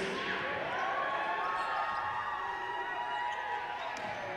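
Basketball fans of the Brampton A's cheer and roar in an indoor NBL playoff arena, a dense, sustained crowd noise with whistles and shouts that stays steady throughout.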